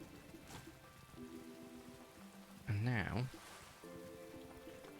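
Rain patters steadily in Paleo Pines, a soft continuous wash of drops on surfaces behind game music, with a person speaking briefly over it.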